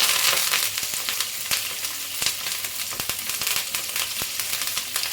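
Green chilies and curry leaves frying in hot oil with mustard seeds give a steady close sizzle with scattered crackles and pops.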